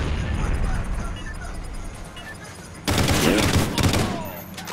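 Gunfire and a grenade blast erupt in a first-person shooter video game match, a sudden loud burst of rapid shots and booms cutting in after a quieter stretch of background game noise.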